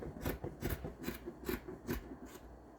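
Scissors cut through fabric for children's joggers in steady rhythmic snips, about six close, soft crunching strokes evenly spaced with no talk.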